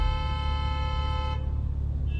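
A vehicle horn blares in one sustained, loud, steady blast at a highway toll plaza, cutting off partway through, with low engine rumble continuing underneath.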